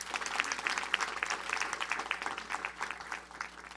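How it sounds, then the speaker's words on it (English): A round of applause from attendees at a county council proclamation ceremony honoring education staff, steady dense clapping for about four seconds, somewhat distant and soft, with no speech over it. "Let's give her a round of applause"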